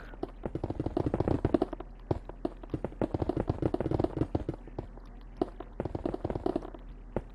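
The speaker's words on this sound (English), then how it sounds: "So let me destroy this wall real quick." Blocks of a wall being broken in Minecraft: a fast, irregular stream of short tapping and cracking hits, moderately quiet, continuing for several seconds with brief pauses.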